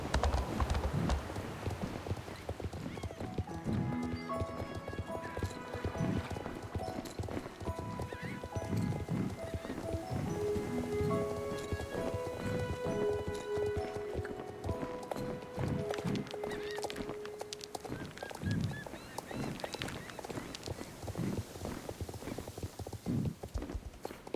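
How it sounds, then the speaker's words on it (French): Pony in Star Stable Online trotting with steady clip-clop hoofbeats and occasional whinnies, a game tune playing softly underneath. "Allez, en avant, poney."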